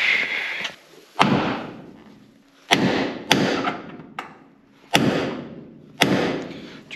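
A hammer bangs on the metal bodywork of a tank, about seven sharp, ringing strikes at irregular intervals, each decaying into a brief metallic echo in an otherwise quiet space.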